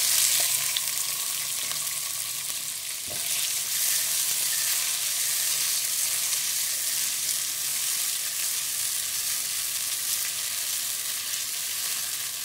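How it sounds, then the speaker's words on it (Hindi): Onions frying in hot oil until golden brown for a Punjabi desi-style chicken curry, a dense, continuous sizzle that stays loud and steady throughout with no talking. "एक आपने प्याज ले लेना है, इसको आपने गोल्डन ब्राउन कर लेना है।"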